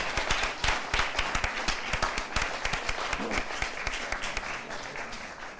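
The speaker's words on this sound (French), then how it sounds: "Je vais demander au public de les applaudir bien fort." An arena audience at a game-show semifinal claps loudly and continuously, a dense crowd applause that eases slightly toward the end.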